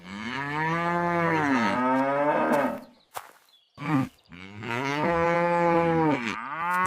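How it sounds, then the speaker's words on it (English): A cow at a zoo moos loudly and close by: two long, drawn-out calls separated by a short pause, with no talking over them. "This is a cow."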